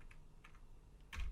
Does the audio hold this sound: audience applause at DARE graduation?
no